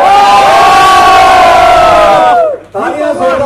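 A large crowd roars and cheers loudly for a Bhojpuri star at a song launch, a sustained wall of voices that briefly dips before swelling again.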